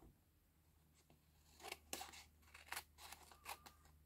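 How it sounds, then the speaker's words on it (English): Scissors snip through excess vellum trimmed from a 4x7 slimline Christmas card, several quick close cuts in an uneven rhythm over a quiet background. "take my good snips, and trim off the excess vellum"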